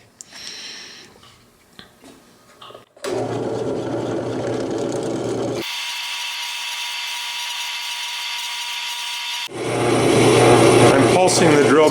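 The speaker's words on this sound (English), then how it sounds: "Pulsing the drill bit up and down to keep the drill bit cool." A drill bit bores into stone for a pendant, pulsed up and down, giving a steady whirring grind that stops and restarts, with a brief lull of quieter handling and faint talk at the start.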